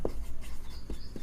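Chalk or marker writing on a board during a Hindi-language lesson on the Indian constitution, heard as a few short scratchy strokes at close range, separated by brief pauses.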